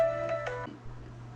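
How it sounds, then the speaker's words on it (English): A phone rings with an incoming call, a short electronic ringtone of a few tonal chirps in quick succession that stops after about half a second, fairly faint over a low background hum. "got another phone call."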